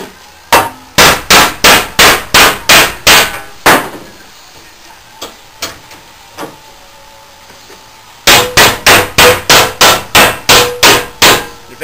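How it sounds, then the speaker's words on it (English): A sand-filled dead blow hammer strikes again and again in two fast, even bursts of heavy, close blows, with a few scattered single knocks in the quieter stretch between them. "this is called a dead blow hammer. It's got sand inside"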